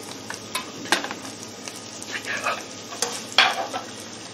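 Seafood and beef noodles with shrimp and mushrooms are being stir-fried in a pan. A steady low sizzle runs underneath while irregular stirring scrapes and clinks of utensil on metal come through clearly, fairly close and moderately quiet.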